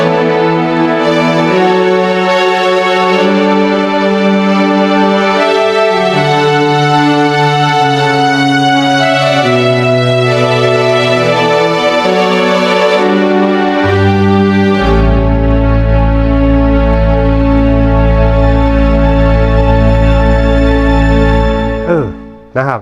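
Sustained synthesized string chords from a Roland Sound Canvas sound module swell and shift through a slow progression, loud and alone, ending with a brief downward glide.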